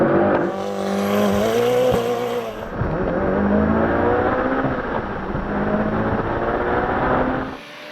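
A tuned Mitsubishi Evo launches hard on a rainy uphill quarter-mile run, with brief wheel spin at the start. The engine roars close and loud, its pitch climbing steeply, dropping at quick gear changes and climbing again for about eight seconds.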